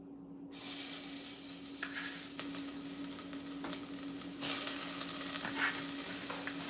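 Shallots hit a hot pot for mushroom risotto and start sizzling with a sudden hiss, followed by steady frying with scattered stirring clicks and a second louder burst of sizzle.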